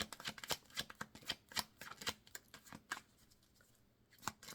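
Tarot cards being shuffled in quick riffling bursts, close and crisp, with a brief pause before one last flurry.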